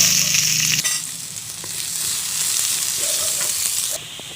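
Garlic and onion drop into hot oil with pepper for lechon paksiw, setting off a sudden loud sizzle that settles into steady close frying with a few stirring clinks.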